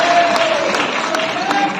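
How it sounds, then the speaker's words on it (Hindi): A large audience at a national award ceremony in a hall claps steadily to welcome a singer, a dense continuous wash of applause with a faint sustained tone underneath. "जोरदार तालियों के साथ अभिनंदन करें"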